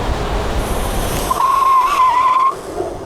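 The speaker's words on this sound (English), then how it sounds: "this bike does one of my favorite things, that tire screech" A 72V 5000W Mini Goat V2 electric bike lets out a sharp tire screech lasting about a second, a steady high squeal rising over road rumble, then cutting off abruptly.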